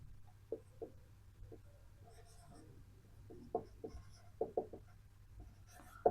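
Chalk or marker writing on a board in a Class 12 biology lesson, heard as a few scattered short scratchy strokes in a quiet room, with faint whispery background between them.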